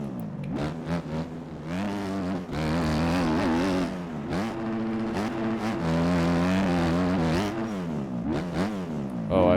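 A motocross bike engine in the MX Bikes game revs up through the gears, rising in pitch, briefly dropping at each shift, then climbing again. The sound is loud and steady throughout.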